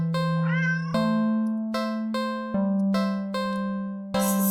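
A black cat in a video game gives a single clear, close meow at the start, followed by a series of ringing chime-like tones.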